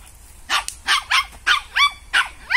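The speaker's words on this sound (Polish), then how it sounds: "To jest najgłośniejszy pies na nadwór," A dog barks loudly and repeatedly during an outdoor nosework trial, about six sharp close barks in a steady rhythm.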